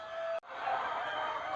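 Four-month-old Mysore country chickens (naati koli) on a poultry farm. The poultry sounds are steady and moderately close, set against constant broadband background noise with a short break.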